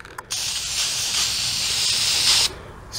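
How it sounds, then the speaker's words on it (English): Spray paint can hissing in one steady, close burst of about two seconds while coating the pieces of a Warhammer 40k Blood Angels Predator tank miniature, with a brief puff just before it starts. "Gonna spray at different angles, of course."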